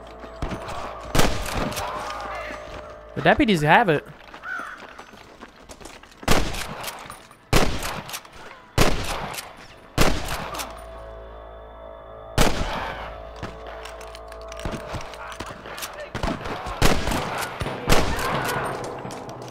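Repeated loud gunfire from the Western video game Red Dead Redemption, sharp close shots in irregular bursts through the clip, with a brief voice speaking between volleys.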